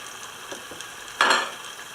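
Steady hiss and crackle of dough balls deep frying in hot oil, with a brief louder burst of sizzling midway and faint clinks of a utensil.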